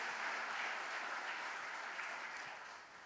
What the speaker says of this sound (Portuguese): Dê um aplauso a Jesus pela vida deles.